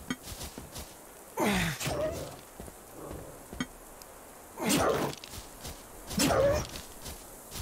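Dogs bark in the video game Dysmantle, three loud bursts spaced a few seconds apart over quiet game ambience, with no talking.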